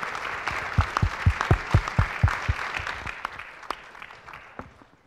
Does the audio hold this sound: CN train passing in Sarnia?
no